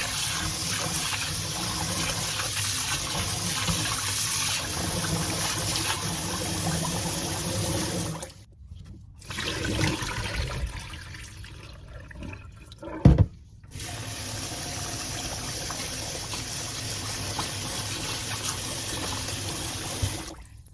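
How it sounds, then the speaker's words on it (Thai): Sticky rice rinsed under a running kitchen tap, a steady splashing stream of water that cuts off briefly twice before flowing again, with one short clunk between. "นำข้าวเหนียวเคี่ยวงู มาล้าง สักสองสองน้ำก่อนนะคะ ขัดเบาๆ"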